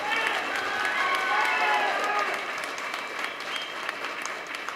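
Audience applause and cheering at a Tamil political speech, a dense sustained wash of clapping that swells through the first half and then eases slightly, with crowd voices mixed in.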